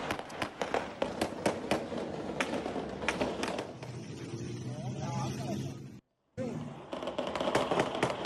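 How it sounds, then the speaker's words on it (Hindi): Gunfire near the presidential palace in Caracas, Venezuela, captured in news footage: rapid sharp cracks in bursts over the first few seconds, then a quieter stretch with street noise, a brief dropout, and more popping shots. "यहां पर फायरिंग हो रही है"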